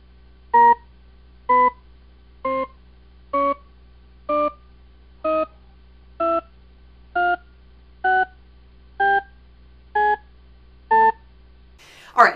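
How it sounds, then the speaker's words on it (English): A Shepard scale of twelve short synthetic tones, each built from several octave-spaced partials, sounding about once per second and seeming to climb steadily, clean and evenly loud with no talk over them. "I'm going to play you the Shepard scale. It's a series of notes."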